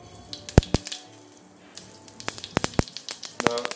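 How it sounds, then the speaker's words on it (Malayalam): Mustard seeds popping in hot oil in a pan, a scatter of sharp close cracks and pops, some loud and some faint, over a low background hiss. "കടുക് പൊട്ടുന്നുണ്ട്."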